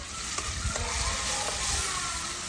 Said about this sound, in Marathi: तेलात वाटलेली चटणी परतून घेऊ.